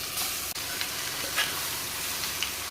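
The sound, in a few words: spice mixture added to golden fried onions, sizzling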